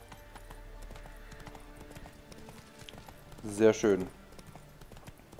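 A horse's hooves clip-clop at a walk while riding in The Witcher 3, with a brief louder flurry of hoofbeats and a neigh-like call standing out, as someone comments briefly.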